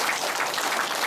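A crowd claps in a steady, even patter at a lawmaker's constituency report meeting, moderately loud and sustained for a short burst with no voices over it.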